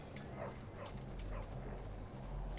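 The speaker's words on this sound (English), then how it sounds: "You're getting chased by a dog." A dog barks and yips while chasing the player character through the streets in the video game Bully, short repeated barks over a loud, dense game soundscape with no talk.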